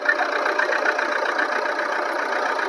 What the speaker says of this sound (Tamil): வாங்க, இன்ஜின் சவுண்ட் பாருங்க.